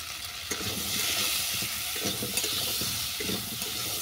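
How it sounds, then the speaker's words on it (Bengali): Salt and turmeric are stirred into a pan of frying cucumber, shrimp and chopped tomato, with rhythmic spoon scrapes and pushes over a continuous close sizzle and no talk. "এটাকে ভালো করে মিশিয়ে নেব।"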